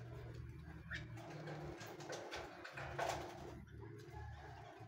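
Pigeons or doves coo from inside an aviary, a faint, repeated murmur with a few brighter chirps from other birds and a quiet ambient hum behind them.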